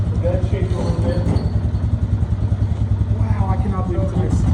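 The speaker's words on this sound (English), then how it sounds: "It's idling. Okay. Sounds really good." A vehicle engine idles close by with a steady low throbbing pulse and light clatter, while a person talks over it.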